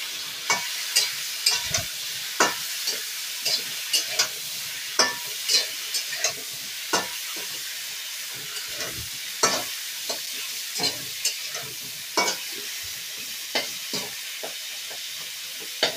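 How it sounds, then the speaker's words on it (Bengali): Vegetables fry in oil with cumin in a kadai, a constant sizzle punctuated by regular sharp scrapes and clacks of a spatula, close up and unaccompanied by speech. "সব সবজিগুলো কড়াতে দিয়ে একটু ভেজে নেব।"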